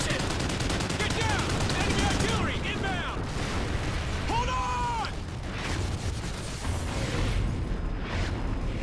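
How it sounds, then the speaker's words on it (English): Battle sounds from Call of Duty Ghosts, with dense rapid gunfire and booming artillery explosions, continuous and loud, while voices call out over the chaos. "Enemy artillery inbound!"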